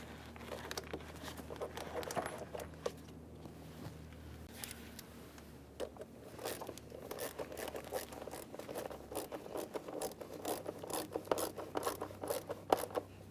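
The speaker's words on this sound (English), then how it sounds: "and then you want to tighten the clamp" A hose clamp on a 3.6L V6 GMC Acadia throttle body is tightened with a rapid run of faint, close ratcheting clicks that come in bursts with short pauses.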